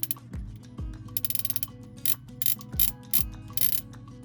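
Fishing reel drag clicking loudly in close-up, rapid ratcheting bursts alternating with sharp isolated clicks and brief mechanical whirs, irregular in rhythm, with no talk over it.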